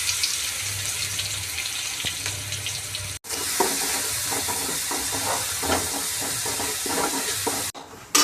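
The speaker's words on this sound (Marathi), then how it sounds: "आता आपण मिरची आणि लसूण परतून घेऊ" Green chilli and coarsely ground garlic fry in hot oil, giving a steady, close, broadband sizzle with scattered crackles and stirring clinks, briefly cut off by a short gap partway through.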